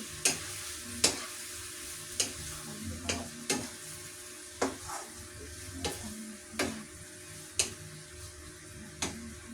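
Eggs with bitter gourd frying in a pan, a steady low sizzle punctuated by about a dozen sharp utensil scrapes and taps at an uneven, unhurried rhythm, close and without voices.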